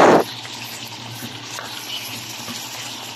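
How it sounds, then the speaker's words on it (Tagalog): Chicken breasts and onions stir-fry in a pan, opening with a short loud burst before settling into a moderate, steady sizzle with faint scraping of stirring, close by and without talk. "gimikos-mikos na nato diha karon, gibutang na nato ang chicken breasts"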